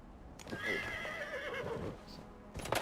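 A horse in the video game Dragon Age: Inquisition lets out a drawn-out neigh, with faint hoof clops and a brief sound at the end.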